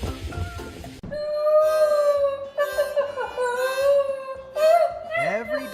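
A dog howls in long, sustained, wavering tones that rise and fall across several seconds, loud and close, following a brief noisy lead-in.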